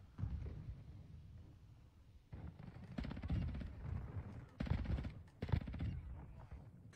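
Shotgun fire from the Modern Warfare 2 video game: several quiet, separate booming blasts spaced a second or so apart, each leaving a short rumbling tail over a low background.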